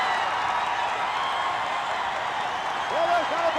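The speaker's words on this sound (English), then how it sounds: "Listen to that crowd, Vince. Listen to it. It's taking the roof right off the building." Loud, sustained cheering and clapping fill a packed pro wrestling arena, a steady roar of the crowd with a commentator's voice breaking through near the end.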